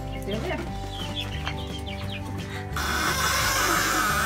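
Chickens clucking in a camp trailer family setting, soft scattered clucks under and between nearby talk, followed by a louder burst of noise near the end.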